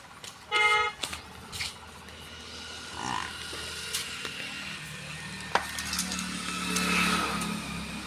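A motorcycle horn in a village with emptying streets, sharp short toots near the start followed by passing traffic and engine noise in the background.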